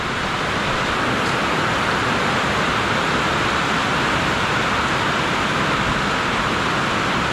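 Rainwater pours steadily off the edge of a new shipping-container barn roof that has no gutter, a loud, continuous broadband rush of falling water without a break.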